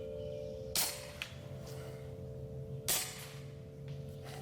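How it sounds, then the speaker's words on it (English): Two sharp, quiet shots from a Hatsan Flash Wood air rifle with its stock shroud, about two seconds apart, each a brief crack over a steady low hum, followed by a faint metallic click. "here's a sound test with just the stock shroud on there"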